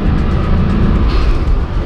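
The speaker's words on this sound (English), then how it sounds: "You can hear that turbo." A pickup truck's turbocharged engine runs loud and close, with a heavy low rumble, a steady drone and a faint turbo whistle over the top.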